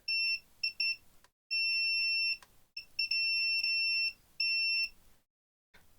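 A multimeter sounds its continuity beep while a no-power AXUS USB keyboard is tested: a clean, high electronic tone coming in short chirps and longer held beeps, separated by brief silences, with no talking.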